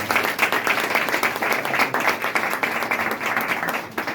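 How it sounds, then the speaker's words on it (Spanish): Steady crowd applause at a church service, many hands clapping continuously at a fairly loud level for several seconds, with no voices standing out. "¿Cuánto le dan un aplauso al Señor?"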